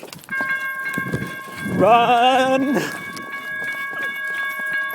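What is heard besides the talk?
train passing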